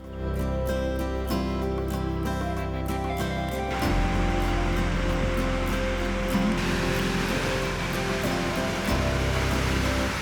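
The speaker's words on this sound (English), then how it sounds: "another waterfall. This one's in a canyon and it's really pretty." Rushing water roars loudly and steadily, a dense continuous white-noise torrent from a waterfall in a canyon in Iceland, with no voices.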